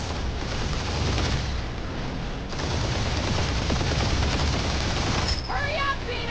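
Heavy gunfire in the Guardians of the Galaxy video game, a dense barrage of shots and blasts roaring continuously for several seconds, with a voice briefly heard near the end.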